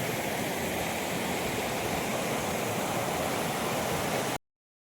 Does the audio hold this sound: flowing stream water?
yes